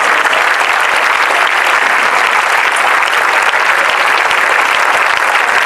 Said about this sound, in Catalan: Us demano un aplaudiment per totes elles.